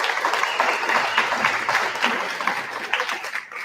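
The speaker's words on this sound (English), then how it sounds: "So let's give them a round of applause." Audience applause at a Stratford school spelling bee for the contestants, a steady wash of many hands clapping in a hall, moderately loud and tapering slightly near the end.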